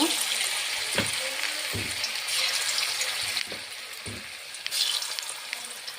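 Shefali flower fritters (bora) sizzle steadily in hot oil, a dense continuous crackle with a few dull knocks of a utensil against the pan, close and alone without talk.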